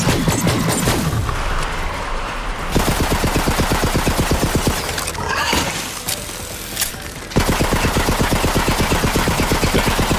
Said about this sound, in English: I'm firing rubber pellets at dinosaurs.